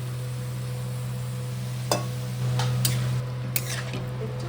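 Cauliflower florets dropped into hot red spiced oil for a Bengali cauliflower rosha, giving a steady low sizzle with a few clinks and scrapes of stirring and a brief louder burst of frying, no talk.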